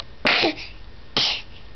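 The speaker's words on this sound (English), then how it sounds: "Big sneeze." A child gives two sharp sneezes about a second apart, close and loud, each a short burst with a breathy tail.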